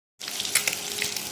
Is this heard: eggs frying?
yes